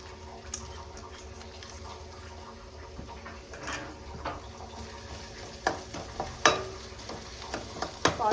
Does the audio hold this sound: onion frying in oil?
yes